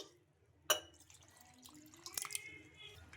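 Water is poured into corn flakes and curd dosa batter in a grinder jar, heard as a sharp splash followed by a short, quiet trickling pour, close up.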